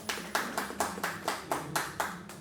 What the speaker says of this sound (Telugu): మిత్రులారా, కొట్టండి గట్టిగా చప్పట్లు.